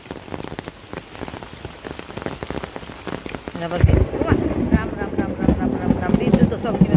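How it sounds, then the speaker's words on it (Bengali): Heavy rain pours down over a rural village, starting as a lighter patter and then swelling into a dense, loud, steady roar of downpour partway through. "এই বৃষ্টি সাদা হয়ে নামছে"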